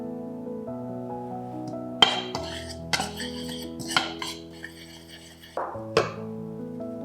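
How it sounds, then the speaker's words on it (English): Dry flour, baking powder, baking soda and cinnamon are stirred in a bowl, giving a few sharp clinks and scrapes of utensil against the bowl over a steady music bed, with no one talking. "Mix flour, baking powder, baking soda, cinnamon,"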